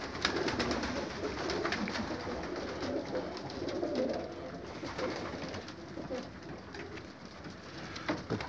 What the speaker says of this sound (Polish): Gołębie się pchają na tamte gołębniki, ale powchodzą tu bez problemu.